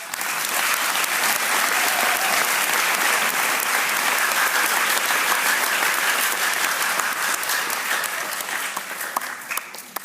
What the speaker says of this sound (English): Can we all give that a clap?